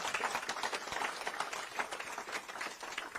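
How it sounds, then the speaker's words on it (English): Audience hand clapping at a professionals' gathering in Geneva, a continuous patter of many hands clapping at moderate, fairly distant level throughout. "I think he deserves a better hand clap."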